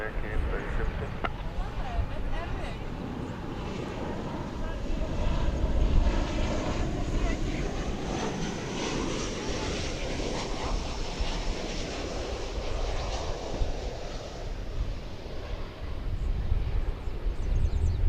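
An American Airlines airliner takes off from runway 18L at DFW Airport, its engines a loud, steady roar mixed with wind across the whole stretch.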